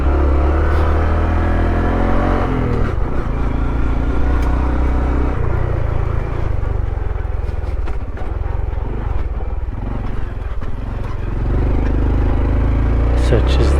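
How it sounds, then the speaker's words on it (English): A Honda Trail 125 with a 15-tooth sprocket winds up slowly in first gear off road, its engine a loud, steady droning rumble throughout with a rising pitch near the end. "Such as that's first gear. It takes a minute to wind up."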